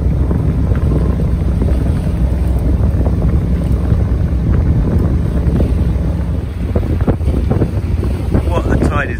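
A small boat driven by a 10 horsepower outboard motor pushes through tidal water near Yarmouth, a steady low rumble and hull wash mixed with heavy wind buffeting on the microphone throughout, with a voice speaking over it.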